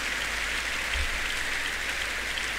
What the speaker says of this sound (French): Acclamez fort le Seigneur Jésus.